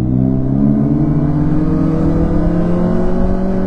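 Lowered car on a road in Japan, heard from a motorcycle: a loud, steady engine drone with strong low harmonics and a slight rising pitch, close and continuous with no speech.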